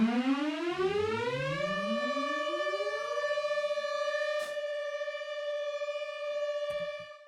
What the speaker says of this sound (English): plus saw plus detune equals siren, I guess.